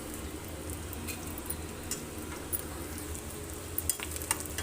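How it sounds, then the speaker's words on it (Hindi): Edible gum (gond) roasts in a pan for winter laddu, giving a soft, continuous sizzle with faint crackles and occasional stirring taps. "आराम से गोंद भुन रहा है"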